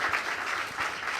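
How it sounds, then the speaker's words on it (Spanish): A church congregation claps in praise to God, a short burst of dense, even applause filling the whole moment at moderate loudness. "¿Qué tal si le damos un buen aplauso a nuestro Dios?"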